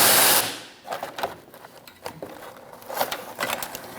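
Socket wrench on heat shield bolts under a 2000-2006 Mini Cooper, using a 10mm socket: a few short ratcheting and clicking bursts, close and moderately loud, with a brief loud noise at the start.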